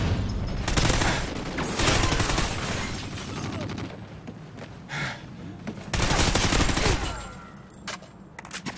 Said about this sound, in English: I don't get where I'm constantly getting shot from, man.